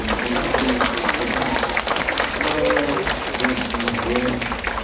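Crowd applause at a political book launch, a sustained, fairly loud wash of clapping from a large audience, with a voice speaking over it.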